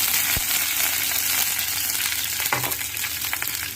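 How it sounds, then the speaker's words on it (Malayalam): Onion and garlic sauté in a pan with a loud, dense, continuous sizzle and a few sharp scraping stirs and clicks, with no voices. "ഇവിടെ ഈ സവാളയും വെളുത്തുള്ളിയും കൂടെ, 2 അല്ലി വെളുത്തുള്ളിയും കൂടെ വഴറ്റാൻ വെച്ചിട്ടുണ്ട്"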